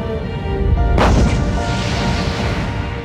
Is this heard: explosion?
yes